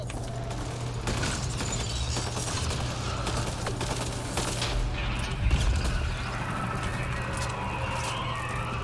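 Gunfire from the video game Mass Effect Andromeda, a steady dense wash of game combat noise with rapid shots and mechanical effects running throughout, one louder burst near the middle, no talking.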